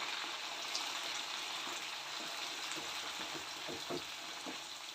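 Ground spice paste from the mixer poured into a hot pan, setting off a steady, broad sizzle and frying crackle that holds at an even loudness, with a few sharper pops and stir-like bursts near the end.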